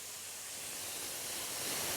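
Steak sizzling in a hot pan gives a steady, fairly loud broadband hiss that holds even and continuous throughout, with no talk over it.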